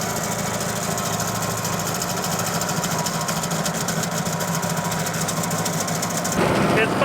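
A stump grinder chews into a stump over a hundred years old, a loud, continuous rattling engine roar with a hammering cutter edge, while a person talks over the noise.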